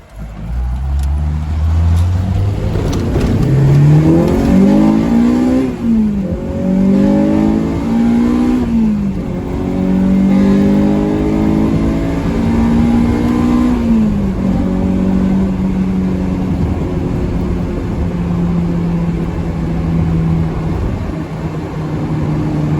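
A Honda Civic with a newly replaced O2 sensor idles and revs loudly up close, its engine pitch climbing and falling in several repeated surges with no talking.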